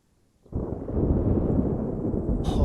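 Thunder crashes in as a weather effect in the Warlords video game, a loud rolling rumble that starts abruptly after a moment of near silence and keeps booming steadily to the end.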